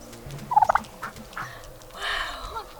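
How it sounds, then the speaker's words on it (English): A turkey hen named Harriet gobbling close by, a quick burst of rapid warbling notes followed by softer clucks and rustling outdoors. "Harriet the turkey."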